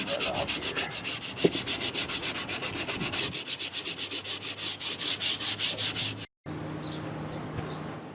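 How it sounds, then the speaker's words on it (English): A steel adze head is sanded by hand in rhythmic back-and-forth strokes, close and loud, with a brief break before the scraping resumes. "I sanded it down pretty good."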